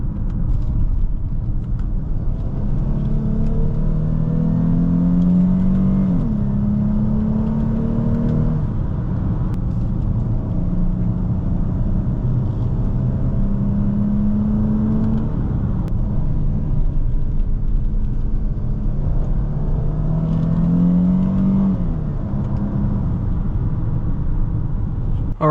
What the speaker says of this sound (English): Downshift around the corners. I can accelerate through the corners.